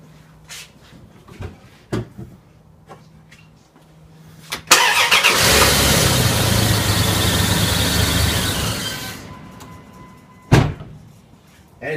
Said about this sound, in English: if I've done this correctly, the vehicle should start